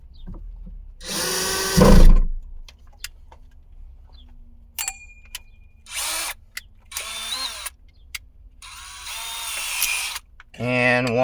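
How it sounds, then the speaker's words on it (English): A cordless power drill driving screws into a third brake light on a 2020 Jeep Renegade Latitude, in several short whirring bursts separated by pauses, close and loud, with someone talking between them. "Put my screw bit back in. And put two screws back up in."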